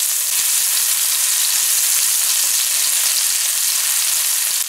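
Onions and carrots fry steadily in a hot pan for shrimp chowmein, a dense, even sizzle that stays close and constant with faint stirring and no voices.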